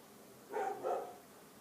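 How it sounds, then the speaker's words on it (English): A dog indoors gives two quick, faint barks in close succession, muffled and somewhat distant, with quiet room noise before and after. "My dogs are driving me crazy."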